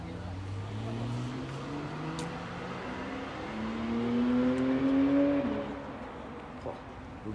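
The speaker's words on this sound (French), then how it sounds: "Oh, le bruit de Porsche." A Porsche engine revving and climbing through the gears as it drives past at a distance, its rising tone swelling louder before fading, amid faint outdoor street noise.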